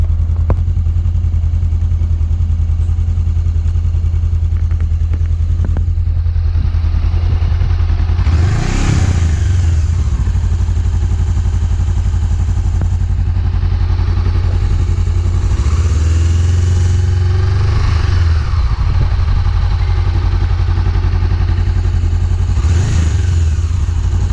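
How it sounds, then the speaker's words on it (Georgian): A Honda CB 500F motorcycle engine runs steadily with a low rumble, rising in a few revving swells before settling back to idle. "ახლა დავკოქავ მოტოციკლეტს"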